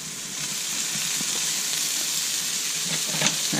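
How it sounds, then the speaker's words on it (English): Ground beef and onions sautéing for picadillo give off a steady, close sizzle that holds at an even loudness, with a few soft stirring clicks near the end. "So we're going to go ahead and just put everything in and"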